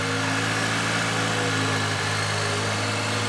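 A GMC Canyon AT4 with a 2.7 liter turbo four-cylinder runs just after a cold start, giving a steady, close idle drone with constant mechanical hum and no variation or voices.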